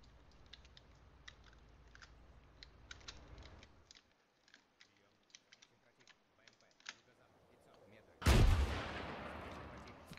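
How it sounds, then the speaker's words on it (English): In the Arma 3 military game, a rocket launches near the end as a sudden loud blast with a roaring whoosh that tails off, following several seconds of faint scattered distant gunfire clicks and quiet ambience. "Rocket went off."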